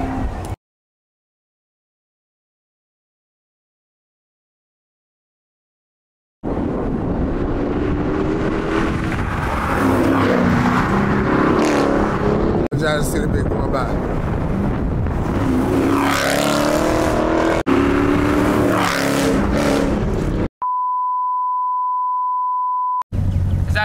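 A Dodge Charger Scat Pack's engine runs close and loud with a steady, rumbling drone for about fourteen seconds after a stretch of silence, then gives way to a sustained electronic beep.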